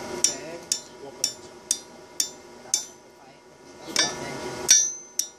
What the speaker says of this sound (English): with the hammer, hit it towards yourself